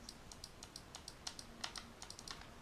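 A quick series of light, crisp clicks from the electronic trigger of an ARES Amoeba AM-009 airsoft rifle ticks out in an irregular rhythm, close up and fairly quiet over a soft background hiss.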